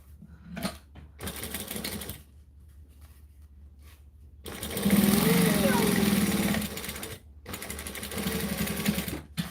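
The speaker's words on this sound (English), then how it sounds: "I will be here sewing this." A sewing machine stitches in short bursts, stopping and starting, with a longer louder whirring run in the middle; a voice talks faintly between bursts.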